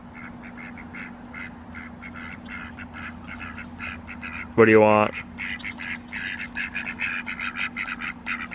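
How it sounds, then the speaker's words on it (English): Ducks on a farm at night give rapid, repeated quacks close by, with one louder burst of honking quacks midway, under and between a person talking. "Here come the ducks."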